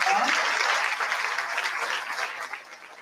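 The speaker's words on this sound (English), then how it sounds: "Big round of applause for Ms. Moss." Warm round of applause from a school awards audience honoring a security monitor, dense clapping at the start that slowly thins and softens toward the end.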